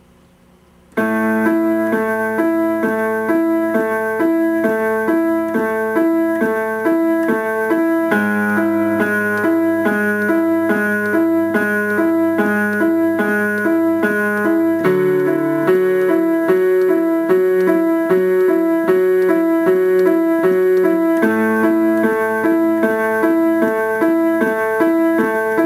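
A piano plays the main melody of a song in an easy arrangement, a steady run of clear, sustained notes over low accompanying tones, loud and close with no talking.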